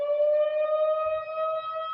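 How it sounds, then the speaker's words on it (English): A steady siren wail outside a window, holding a nearly constant pitch, heard at moderate volume from a distance, with faint low rumbles underneath. "I hope the siren is not too loud for you."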